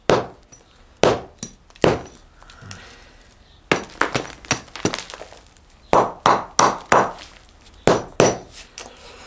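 A hammer breaks rock while someone clears stone from behind a pillar to dig out a workshop, a series of loud, sharp cracking blows in irregular clusters with brief pauses between them.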